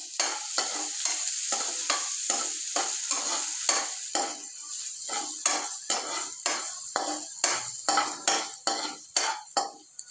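Chopped large onions for kothu parotta fry and sizzle in a pan, with a spatula scraping and clanking against the metal in a quick, regular rhythm.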